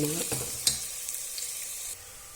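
Soya chunks frying and crisping in a pan for ghee rice, giving a steady close sizzle with a few brief clatters from stirring.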